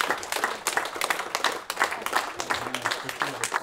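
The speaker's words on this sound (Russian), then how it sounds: "Под бурные аплодисменты началось чествование юбиляров" Clapping from an audience at a ceremony honouring the anniversary members of the Nenets Okrug local historians' society, a dense run of sharp claps lasting throughout and mixed with a faint low murmur.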